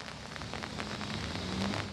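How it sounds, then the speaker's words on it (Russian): Rainwater streams across a paved square at the Odesa port customs area, a steady broadband wash of running water and spattering drops, fairly loud and continuous with no voices. "вода струится здесь просто реками"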